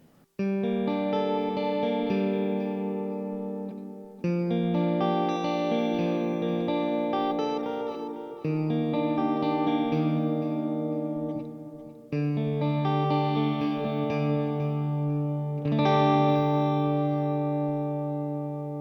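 A Divitone MF Studio electric guitar on its neck and bridge humbuckers together strums a series of sustained chords, each ringing out before the next, bright and full, played alone at steady volume.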